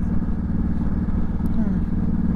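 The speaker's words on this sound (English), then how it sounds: "see if I labour the engine a little bit." A motorcycle engine is held at low revs on its first ride of the season, giving a close, steady, throaty rumble with a faintly pulsing low drone throughout.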